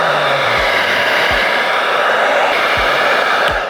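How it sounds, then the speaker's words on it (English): A hair dryer blows loudly and continuously at close range while drying a wig during a wig installation, its steady roar unbroken for several seconds. "We're just going to go in again, the hair dryer, just to make sure that it's completely dry."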